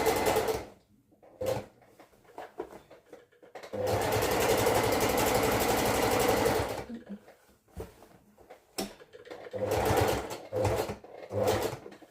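A domestic sewing machine runs a steady burst of stitching for a few seconds, with short start-stop runs before and after, close and moderately loud while elastic is sewn in.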